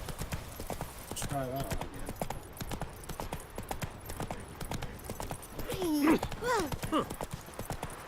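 A horse's hooves clip-clop in a steady rhythmic gait across the whole stretch, close and clear, with someone speaking over it and brief whinny-like vocal sounds partway through.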